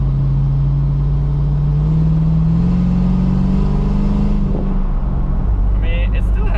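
Dodge Magnum V8 with a bored-out throttle body accelerating, a loud engine drone rising steadily in pitch from inside the car before easing off, with someone talking over it.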